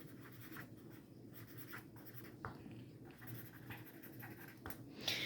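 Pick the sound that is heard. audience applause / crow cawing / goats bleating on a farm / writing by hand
writing by hand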